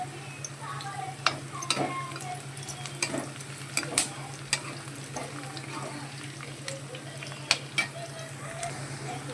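Chopped ivy gourd pieces sizzle and crackle steadily in a pan of hot oil for a simple home curry, with scattered sharp pops and spatters over a constant frying hiss.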